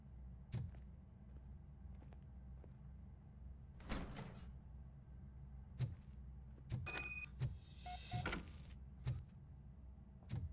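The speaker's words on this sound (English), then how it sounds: "Now let me get that door open for you." A door opens in the video game Robocop Rogue City: several sharp mechanical clicks and clunks, then a burst of hissing, sliding servo noise near the middle, over a steady low ambient hum.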